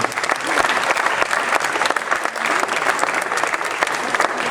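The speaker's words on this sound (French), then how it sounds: "On peut les applaudir tous ensemble." Loud, sustained applause from a football club audience welcoming the new coaching staff, dense clapping filling the room steadily from start to finish.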